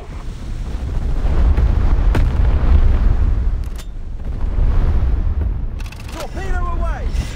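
Torpedo launch in the War Thunder Mobile naval game, heard as loud rumbling booms and rushing, wind-like noise swelling and fading over battle ambience, with a brief rising whistling tone near the end.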